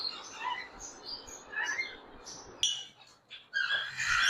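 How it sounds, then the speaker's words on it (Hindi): Sun conure parrots calling inside a bird shop, with faint, scattered high chirps and squawks over quiet room noise. "सन कनौर की ब्रीडर फीमेल पड़ी हुई है।"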